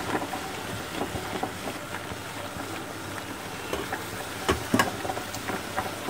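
Malai (milk cream) stirred and cooked in a pan for burfi, a continuous soft bubbling sizzle with scattered scraping clicks from the stirring, growing a little louder near the end.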